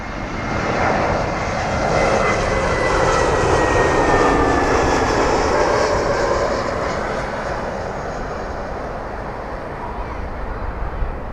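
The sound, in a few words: aircraft engine at London Heathrow airport runway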